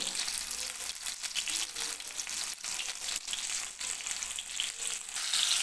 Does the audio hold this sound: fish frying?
yes